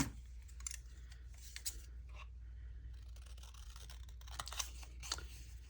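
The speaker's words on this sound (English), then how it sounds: "let's cut it a little shorter" Scissors snipping paper to trim a mini notepad for a junk journal, several close, crisp cuts in short irregular bursts against a quiet background.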